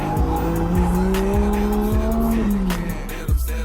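A Nissan GTR with strut and chassis bracing, aftermarket sway bars and Aragusta coilovers drives hard on a racetrack, its engine loud and close, revving up and dropping back repeatedly through gear shifts, with tires squealing.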